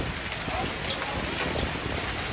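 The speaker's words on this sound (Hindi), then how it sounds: "कितनी बारिश हो रही है यहाँ से आप अंदाजा लगा सकते हैं" Heavy rain pours down at Nainital lake where boats are out, a dense, loud, continuous hiss of drops filling the whole stretch without letup.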